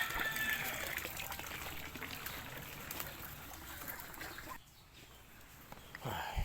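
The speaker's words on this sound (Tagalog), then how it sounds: "Yung tubig niya sinasandok ko papunta dyan" Water being scooped and poured for farm animals, a rushing, splashing gush that runs for several seconds, pauses briefly, then resumes, moderately close.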